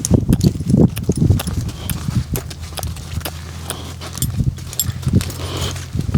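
Hooves clop on hard ground as a green-broke older horse backs up, giving a run of close, distinct, irregular steps with brief pauses between them.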